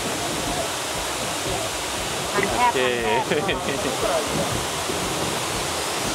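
A steady, loud roar of falling water from the waterfall at Takachiho Gorge, Japan, fills the whole scene, with a person briefly talking over it midway.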